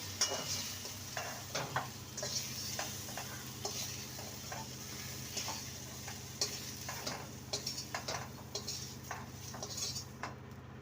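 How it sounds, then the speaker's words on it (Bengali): Drumstick (sajne) stalks fry in a pan with a steady, soft sizzle, while a spatula scrapes and clinks against the metal in an irregular stirring rhythm. "সজনে ডাটা দিয়ে দু মিনিট ভেজে নিয়েছি"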